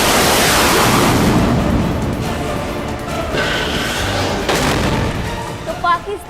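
A Pakistan army missile launching, heard as a loud roaring blast that rumbles and fades over several seconds.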